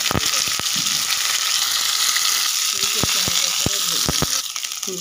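Cauliflower fries in hot oil seasoned with whole cumin and whole garam masala, a dense continuous sizzle punctuated by sharp, irregular clicks of a spatula against the pan.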